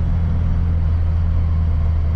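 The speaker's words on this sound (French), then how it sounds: "le moteur fait un bruit tout à fait caractéristique" A 1986 Peugeot 205 1.3 SR engine runs at a steady idle, a low, even rumble with a constant hum, close by and unchanging throughout.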